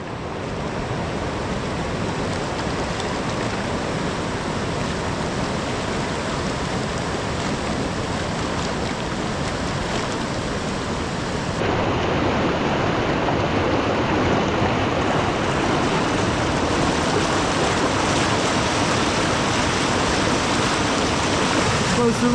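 The Yellowstone River rushes through the Black Canyon, its cold water making a loud, steady broadband roar that continues unbroken and swells slightly about halfway through.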